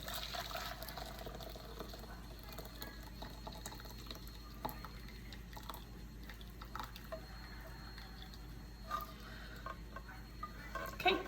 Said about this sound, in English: just strain the potatoes away from the water